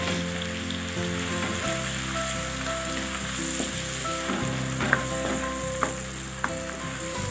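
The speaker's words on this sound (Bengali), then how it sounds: "পেঁয়াজটা ট্রান্সপারেন্ট হওয়া অবধি আমরা এটাকে মিডিয়াম ফ্লেমে কুক করব।" Chopped onions fry over a medium flame in a pan for palak paneer, giving a steady, close sizzle with a few faint clinks, heard alone with no talk.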